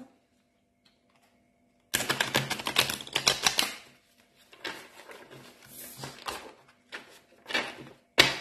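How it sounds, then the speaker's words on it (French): Tarot cards being shuffled: after a near-silent start, bursts of rapid close riffling and slapping patter in several loud clusters, with short pauses between, no talk. "On va bien mélanger les cartes."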